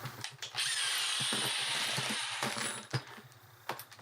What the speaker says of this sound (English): you want to drill a hole and you want to go all the way through.